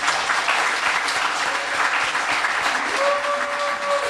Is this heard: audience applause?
yes